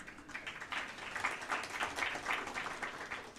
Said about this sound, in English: I think we give him an applause.